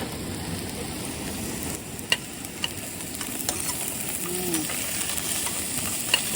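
Fatty pork sizzles and crackles in a pan of mustard leaves, tomato and potato, a steady close frying hiss with a few sharp pops and light stirring.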